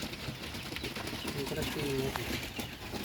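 Pakistani pigeons kept in wooden coops give soft, low cooing, partly masked by steady background noise and nearby talk.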